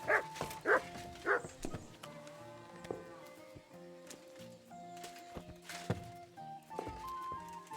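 A dog barks several times in quick succession in the medieval village world of the video game Kingdom Come Deliverance 2, then quieter background game ambience with scattered sounds follows.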